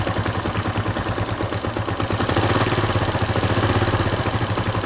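A Suzuki GN 125 sidecar motorcycle idles close by with a loose exhaust and a crankcase leak, its single-cylinder engine putting out a steady, rapid, uneven chug that picks up slightly partway through.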